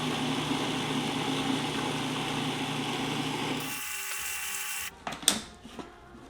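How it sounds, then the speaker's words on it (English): Food processor pureeing homemade Nutella, a loud steady motor whir that cuts off partway through, followed by a few clattering handling knocks. "you just want to keep pureeing this until it's really nice and smooth"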